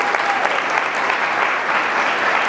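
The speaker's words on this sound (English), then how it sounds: "Everyone a round of applause." A room full of people applauds at a capstone presentation, dense, even clapping that holds steady throughout without a break.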